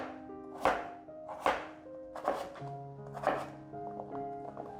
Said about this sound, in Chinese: 现在切成块状，对半切，